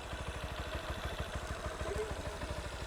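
A motorcycle engine runs steadily close by on a farm outing in New Zealand, its low pulsing firing beats chugging evenly throughout with a slight rise in revs near the end.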